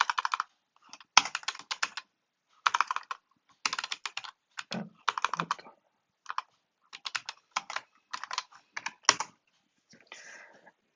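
Fingers type on a computer keyboard in quick bursts of crisp clicking keystrokes, separated by short pauses, close up and alone with no voices.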